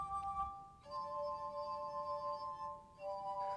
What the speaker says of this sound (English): My glass harp is made up of 60 brandy snifters of many, many different sizes